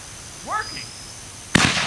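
A homemade firework shell bursts with a single sharp, loud bang near the end, after a brief rising whistle-like sweep; a voice speaks just before the blast.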